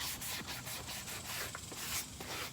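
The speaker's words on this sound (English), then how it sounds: "I'm gonna start with my foam sanding block." A foam sanding block rubs back and forth over a piece of clearance-find furniture being distressed, giving soft, faint, rhythmic scuffing strokes with no voices.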